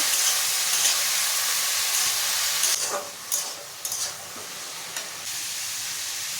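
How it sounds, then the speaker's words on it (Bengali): Snake gourd pieces frying in a pan after whole cumin tempering, giving a steady, loud hiss and sizzle with a few brief stirring scrapes partway through. "কেটে রাখা চিচিঙ্গাগুলো দিয়ে দেবো কিছুক্ষণ ভাজতে থাকবো"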